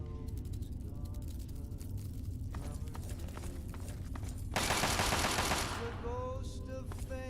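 Gunfire in the video game Fallout 3, rapid bursts of shots in quick succession, with a denser, louder volley about two-thirds through amid rattling game sounds.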